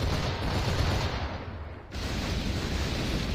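Continuous barrage of ship cannon fire in a naval battle against a frigate and brig in Assassin's Creed IV Black Flag, a dense, rumbling wall of booms with a brief dip partway through.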